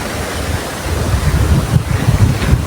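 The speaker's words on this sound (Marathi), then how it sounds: "आता मी बंधाऱ्यावर उभा आहे आणि हा समुद्र." Sea waves wash against a seawall in light rain, a loud, rough rushing surge with wind buffeting the microphone, swelling slightly toward the end.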